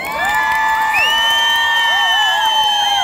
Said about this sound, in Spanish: A la pareja número uno, aplauso.